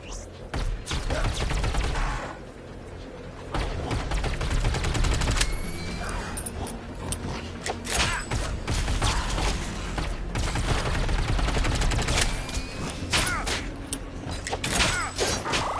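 Submachine gun fire in a sci-fi video game, loud sustained rattling bursts running through most of the stretch amid dense combat noise, with occasional speech.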